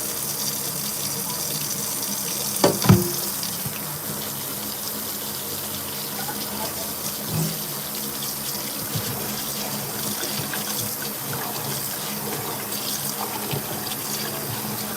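Tap water runs steadily into a sink while vegetables for chicken soup are rinsed, a continuous close gush with a few brief clatters and splashes near the start and no talking.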